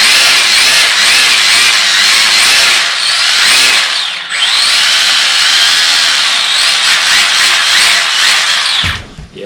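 A wobbling drive shaft on a Tamiya TA02 RC car with an Opel Calibra V6 body gives a loud, continuous high-pitched whirring rasp that runs for several seconds, dips briefly, then resumes until it cuts off.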